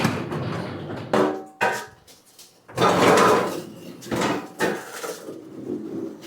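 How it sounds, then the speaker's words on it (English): A heavy Ford F350 truck door is carried out and thrown down outdoors, landing in a few loud, clattering metallic impacts with scraping and rattling between them. Faint talk is also present. "bring that door out here and throw it outside"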